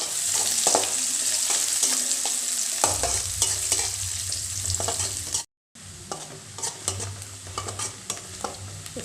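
Onion and green chili frying in hot oil in a pan, a steady close sizzle with frequent stirring scrapes, intensifying partway through, with a brief dropout before the frying resumes.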